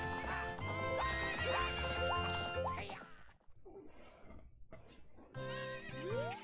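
A horse neighs in Zelda: Ocarina of Time, high whinnying calls rising and falling over background music, followed by a brief quieter stretch and another whinny.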